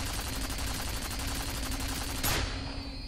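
Sustained automatic gunfire from the shooter video game F.E.A.R., a dense, loud, continuous rattle of rapid shots with a brief sharper burst near the end and no voices.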